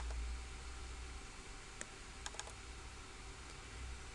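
A few sparse, faint keystrokes on a computer keyboard while an item description is typed into estimating software, the clicks spread over a quiet background hiss.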